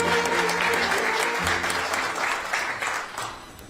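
Warm applause greets the vice minister of South Korea's Ministry of Oceans and Fisheries at its opening ceremony in Busan. Dense clapping from the gathered crowd holds steady, then thins and fades toward the end.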